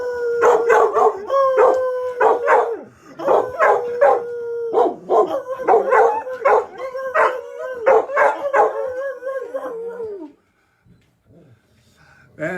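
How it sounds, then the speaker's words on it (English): Several dogs bark and howl at a delivery in loud, overlapping bursts that carry on for about ten seconds, then fall away into near silence. "my dogs are going to bark"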